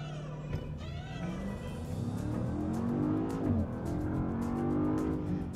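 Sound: 2024 Land Rover Defender V8 engine driving

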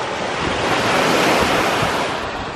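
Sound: ocean waves on the shore

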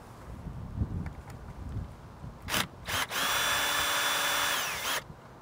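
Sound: power tool loosening roof rack bolt

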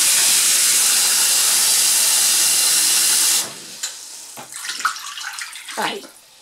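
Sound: water pouring from a tap onto pork trotters

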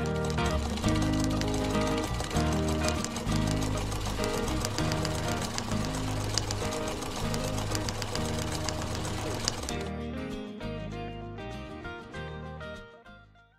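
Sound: sewing machine stitching fabric for a quilt block

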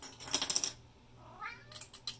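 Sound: cat meowing, upset

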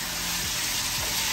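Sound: stirring food frying in a pan

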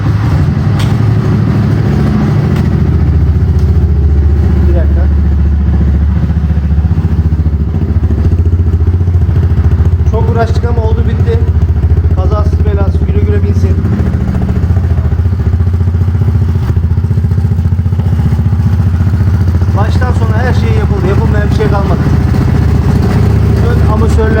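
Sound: Mondial Kral Pion motorcycle engine running, GY6 150cc swap

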